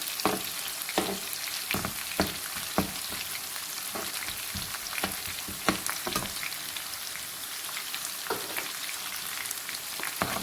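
An ingredient frying in a pan for chicken manchurian, sizzling steadily and close by, with sharp crackles and pops bursting through at irregular moments and no one speaking.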